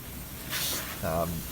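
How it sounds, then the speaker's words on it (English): A short burst of hissing water spray from a garden hose dampening a chicken area in winter, followed by a brief voice. "I spray it just enough to dampen everything"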